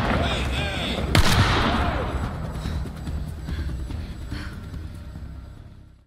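Rifle gunfire in the horror video game The Quarry, a sharp loud blast early on followed by a dense, echoing rumble of further shots and noise that slowly fades over several seconds.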